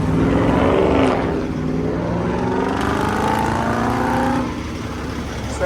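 A tractor-trailer truck engine revs loudly and close by at a Publix delivery dock, its pitch sweeping up and down in long, rising and falling waves before easing off near the end.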